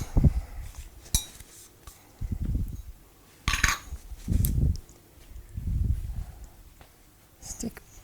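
A spoon scrapes and clinks in a container of charcoal soap batter as colorants are added, giving irregular bursts of stirring with sharp knocks in between, close and moderately loud.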